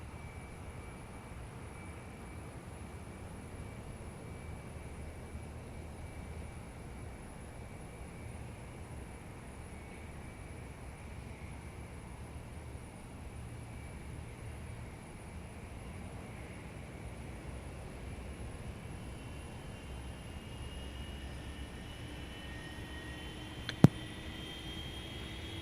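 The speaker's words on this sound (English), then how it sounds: "Starting number 2 engine." The number 2 jet engine of a Boeing 737 in the Zibo mod flight simulator spins up as a faint steady whine and low rumble that slowly rises, with a brief sharp click near the end.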